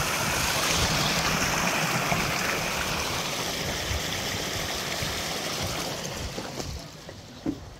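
Hill stream water tumbles down from a waterfall at Debotakhum, a steady broad rushing roar that fills the scene, with a faint thump near the end.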